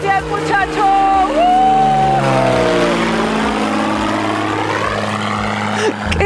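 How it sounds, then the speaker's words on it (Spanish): A small propeller plane departs a remote Arctic landing site, its loud, steady engine drone filling the whole stretch with a slight pitch glide, while people talk and call out over it. "Ahí va nuestra avioneta que ya se va."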